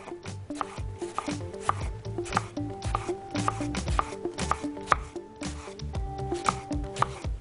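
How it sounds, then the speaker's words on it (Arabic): A knife cutting through apple tart dough makes quick, rhythmic taps against a board, repeated steadily and close up, over a faint tonal background hum. "هقطع"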